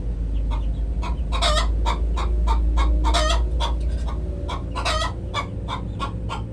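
Backyard chickens, including large two-month-old broilers, cluck and squawk in repeated short bursts close by, over a steady low rumble of machinery or fans.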